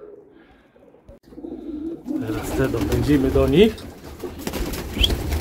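Homing pigeons coo in a loft, then burst into a rustle of flapping wings and soft calls as the flock is let out, with someone talking close by throughout.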